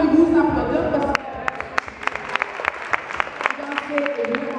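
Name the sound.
applause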